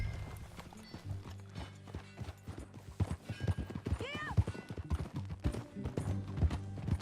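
Horse hooves clip-clop steadily in the Red Dead Redemption 2 video game, a close rhythmic trot over a looping game score, with a brief whinny midway and characters talking over it.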